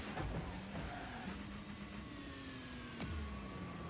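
Car engine in a video game droning steadily with rising and falling pitch sweeps as it revs, moderately loud and continuous, with no voices.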